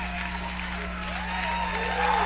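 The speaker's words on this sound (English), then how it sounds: "I can't stop them from applauding." A game show studio audience applauds in a steady, dense wash of clapping that builds slightly toward the end, with a low hum underneath.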